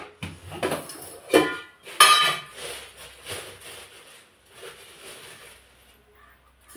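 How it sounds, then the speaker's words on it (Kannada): A spoon stirs masala in a metal cooking pot, giving a series of close, irregular clinks and scrapes. A few sharp knocks come early, then softer scraping fades toward the end. "ಇದನ್ನು ಚೆನ್ನಾಗಿ ಎಲ್ಲ ಹೊಂದ್ಕೊಳ್ಳೋ ರೀತಿ ಮಸಾಲೆ ಮಿಕ್ಸ್ ಮಾಡ್ಕೋಬೇಕು"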